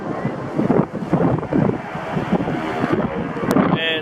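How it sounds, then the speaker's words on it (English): Strong wind at Jack's Beach during an air show buffets the microphone with loud, continuous low rumbling gusts that rise and fall, with faint voices mixed underneath. "It's windy."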